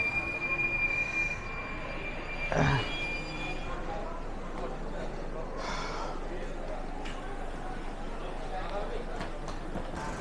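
A Kumbh special train, number 03021, pulls into Durgapur station, wheels squealing briefly with a louder burst of rail noise amid steady carriage rumble, under continuous talk.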